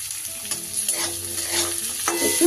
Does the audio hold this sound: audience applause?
no